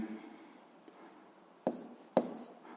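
Someone writes out an equation, leaving faint, soft scratching strokes against a quiet room, with two sharper taps near the end.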